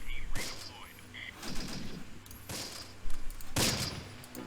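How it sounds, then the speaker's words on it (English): Anti-tank rifles and grenades in Close Combat, several sharp, loud blasts spaced a second or so apart, some with a booming tail, over a low background rumble and distant clatter. "We're firing some AT rifles, throwing some grenades."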